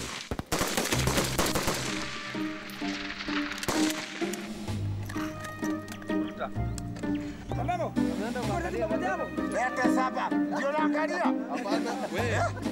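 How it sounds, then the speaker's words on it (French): Rifle fire crackles through a shooting exercise, rapid loud shots mixed with the chatter of onlooking comrades, while a voice speaks over much of it. "Le vieux Wambogu termine l'exercice de tir sous les colibés de ses camarades."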